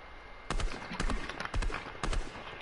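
Sniper gunfire in a video game: four sharp, loud shots cracking out at roughly half-second intervals over a faint background, with no voices.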